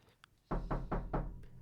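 Four firm, evenly spaced knocks on a door, close and loud, following a couple of faint taps.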